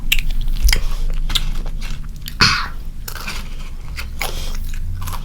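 Up close, a child bites into Korean honey butter potato chips, and repeated sharp crunches give way to steady chewing. No one speaks.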